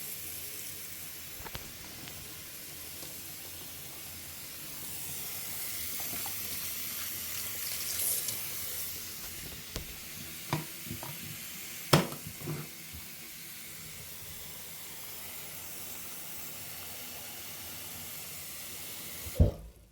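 Water runs steadily from a bathroom sink tap during tooth brushing, a constant hiss broken by occasional clinks and knocks, ending abruptly when it shuts off; no talking.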